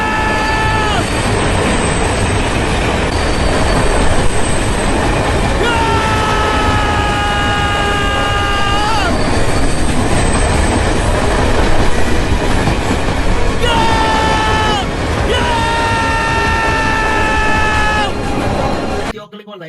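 Train sounds from a film scene in Jersey, a steady rumble and rattle of rolling railcars running throughout, loud and close, with music and occasional voices layered over it.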